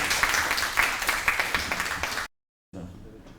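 Brief applause at a live talk show welcoming a company CEO to the stage, clapping mixed with voices for about two seconds before cutting off, followed by quieter room sound.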